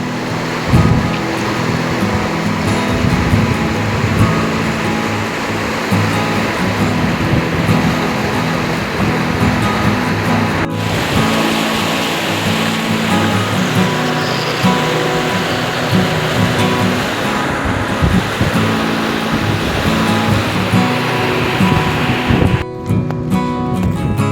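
Floodwater from a large village river rushing under a bridge: a loud, constant roaring wash with churning low rumble that stays steady from start to finish, close by and with no voices.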